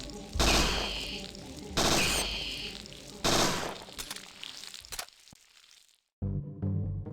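In the video game Parasite Eve II, a burst pistol fires three sharp bursts at a steady pace, each one loud and cracking. Quieter game noises follow, then a short silence and another burst of sound.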